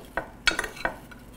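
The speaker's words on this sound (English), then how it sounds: "You're gonna use a little spoon, mix it up." A small spoon clicks and scrapes against a bowl while stirring fruit coated in coconut oil, cinnamon and nutmeg, giving a few quick close taps in a short burst.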